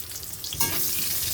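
Chopped onion drops into hot oil seasoned with bay leaves and dried chillies, and a sudden, close sizzle bursts up and then holds as a steady frying hiss.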